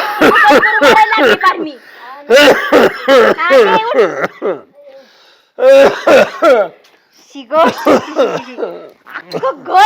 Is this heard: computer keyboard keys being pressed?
no